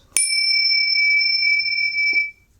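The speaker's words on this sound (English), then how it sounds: "That bell is going to be like our calling card." A single bell struck once, used as a podcast intro, rings out clearly with a bright, sustained metallic tone that decays slowly over about two seconds, alone without talk.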